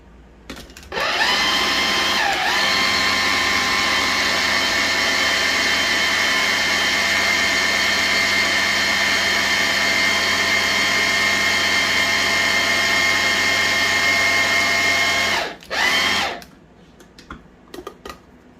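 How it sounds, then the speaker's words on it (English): An electric blender blitzes traditional pesto sauce in one loud, steady run of about fifteen seconds, starting and stopping abruptly, with a brief extra pulse at the end and no talking. "Now all I'm going to do is just blitz it one more time."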